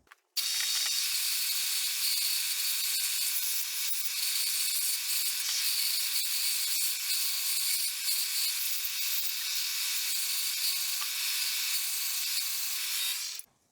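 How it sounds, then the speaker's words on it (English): A sander works steadily around the edges of a wood piece during a DIY rug-hanging project. It makes a continuous, close, hissy grinding rasp for about thirteen seconds and starts and stops abruptly. "So all I'm going to do is get on the sander. I'm going to sand this all the way around"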